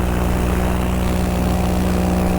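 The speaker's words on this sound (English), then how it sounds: "Jeff just said that the helicopter is lifting off." A police medivac helicopter lifting off nearby: a loud, steady droning engine and rotor hum with strong low tones, unbroken through the short stretch.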